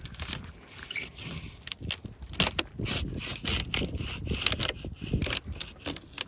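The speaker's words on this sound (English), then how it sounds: "And I use this plastic scraper." A plastic scraper scrapes tape off a C8 Corvette's body in short, uneven rubbing and crackling strokes. The sound is close and fairly quiet, with no talking.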